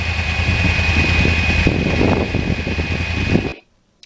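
A 2009 Yamaha R1 crossplane motorcycle ridden on back roads gives a loud, steady engine drone mixed with rushing wind for about three and a half seconds, then cuts off abruptly to near silence.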